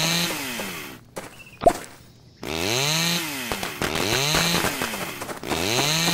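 A chainsaw effect in the Bloodstorm audio game for PC revs in repeated rising and falling whines. It roars loud and close with a short gap and a sharp hit in between.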